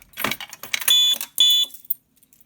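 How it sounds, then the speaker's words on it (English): A fire alarm panel gives two sharp electronic beeps during a zone 2 test, each tone held briefly after some clattering key handling, then silence. "As you see, it beeps twice."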